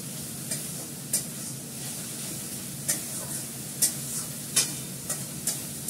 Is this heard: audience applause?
no